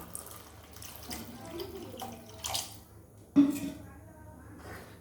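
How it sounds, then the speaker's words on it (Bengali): Water poured into a cooking pot of gobindobhog rice with fish head for muri ghonto, soft uneven splashes and trickles under a quiet voice, with one sharper splash about two-thirds of the way through. "আরেকটুও জল দিয়ে দেবো"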